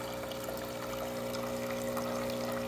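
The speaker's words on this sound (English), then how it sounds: "Now it's gonna run the descaling solution through the hot water nozzle." A Breville Barista Pro espresso machine pumps descaling solution out through its hot water nozzle, giving a steady, faint pouring and trickling sound with a constant pump hum throughout.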